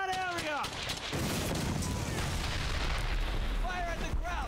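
Rapid gunfire and heavy explosions roar from a World War II shooter game, Brothers in Arms: Hell's Highway, loud and continuous, with whistling incoming shells at the start and end and shouted voices mixed in.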